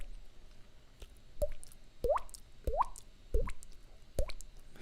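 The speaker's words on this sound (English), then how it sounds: "you need to use water drop sound effect" A series of five water-drop plops spaced about half a second to a second apart, each a short upward-sliding bloop that is clear and close over a faint, quiet background.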